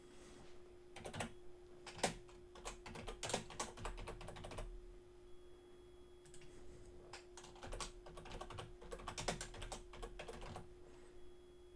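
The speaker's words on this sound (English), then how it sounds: "I'm going to just type in a fake address." Someone types a made-up street address on a computer keyboard, a quiet, close run of uneven key clicks in short bursts with brief pauses between them.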